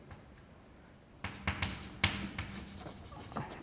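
Chalk or marker strokes on a board during a lecture on random matrices and universality, a quiet room giving way to a run of scratchy taps and strokes with sharp accents, close and fairly soft, no talking.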